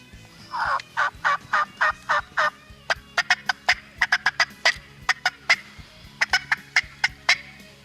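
Wild turkeys gobble and call repeatedly in quick bursts, loud and fairly close, with several birds answering one another outdoors in a field.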